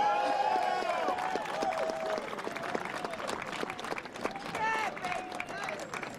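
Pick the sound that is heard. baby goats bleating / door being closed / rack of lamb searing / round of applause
round of applause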